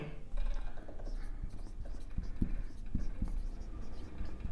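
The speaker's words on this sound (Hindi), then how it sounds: "तो यहां पर लिख लेंगे" Chalk or marker scratches across a classroom board during an electrical circuits lesson, a series of soft irregular strokes and taps close by over a faint room hum.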